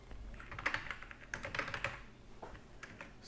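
Soft, quick typing on a computer keyboard as text is entered in a design program, with light irregular key clicks and a couple of brief pauses, faint and close, with no voices.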